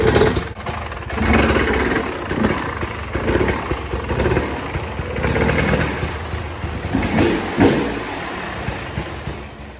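A Husqvarna TX300i dirt bike engine runs steadily for the whole stretch, a loud, close two-stroke drone with rough revving swells and no voices.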